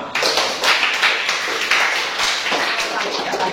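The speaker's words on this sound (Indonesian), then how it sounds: "Tepuk tangan untuk kita semua" Applause from a group of students at a school class debate, brisk clapping that starts abruptly and continues steadily for a few seconds.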